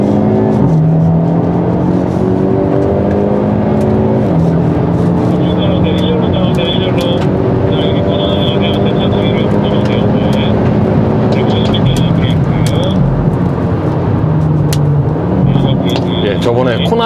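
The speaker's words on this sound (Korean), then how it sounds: "3, 2, 1, 고! 다 같이 앞에 밟아볼게요." A 2022 Hyundai Elantra N accelerates hard on the Inje circuit, its engine climbing through repeated upshifts in a loud, sustained drone heard from inside the cabin, with a voice talking over it.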